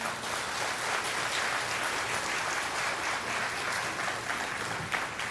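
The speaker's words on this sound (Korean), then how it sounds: "다시 한번 박수로 환영해 주시기 바랍니다" A church congregation at a revival service applauds to welcome a pastor to the pulpit, a dense, steady roar of many hands clapping at once with no pauses, heard from within the hall.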